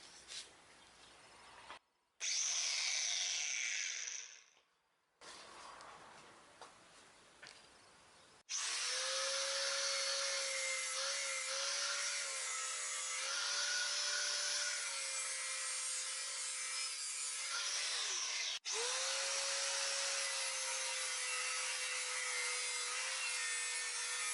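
Angle grinder with a cutting disc slicing a piece for rebuilding the rear brake calipers of a 1987 Toyota Corolla AE86, starting with short bursts and rubbing, then a long, loud, steady whine that dips in pitch under load.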